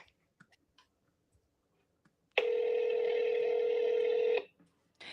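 Telephone dialing for a call: a steady two-tone dialing signal holds for about two seconds after faint scattered clicks, then cuts off abruptly, with a brief sound resuming at the end.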